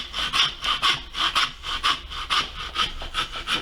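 A hand saw cuts back and forth through lamb while cutlets are being butchered, giving about ten rhythmic rasping strokes. The sawing is close, loud and even-paced.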